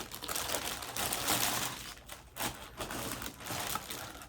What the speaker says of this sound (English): let me quickly unwrap these.